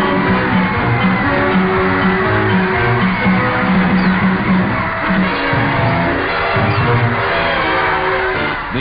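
Throngs lining Pennsylvania Avenue in Washington cheer and shout as General Eisenhower's procession passes in 1945, a continuous roar of a distant crowd with scattered whoops, heard through muffled, band-limited old recording noise.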